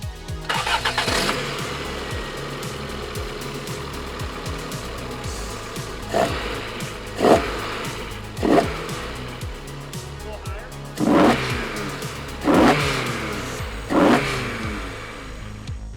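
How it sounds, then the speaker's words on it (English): A Toyota AE86 car engine starts and idles, then revs several times in separate bursts, each swelling and falling back, close and loud. "have him start the car and rev it up a bit"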